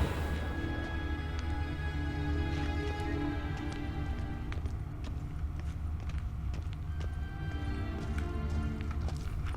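The horse Kelpie gallops in The Witcher 3, a steady patter of hoofbeats over a dense, low background rumble of game ambience, moderately faint throughout with no talk.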